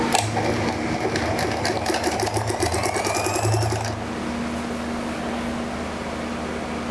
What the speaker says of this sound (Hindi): इसको सेट करके सिलाई लगाते हैं।